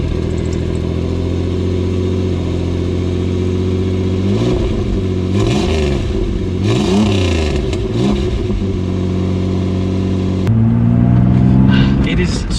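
A restored Pontiac Fiero on the move, its engine droning steadily, rising and falling in pitch as it revs through the gears, with a louder rev near the end; some speech overlaps.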